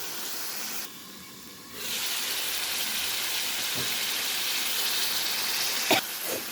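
Meat browning with spices in a pot gives a steady broadband hiss, briefly dipping near the start and ending with a couple of sharp crackles, with no talk.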